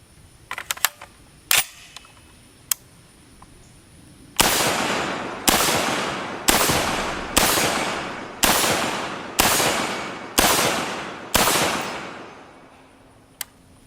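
FN SCAR 16s rifle firing eight loud, close semi-automatic shots at an even pace of about one per second, each with a sharp crack and decaying echo, preceded by a few quieter clicks and handling knocks.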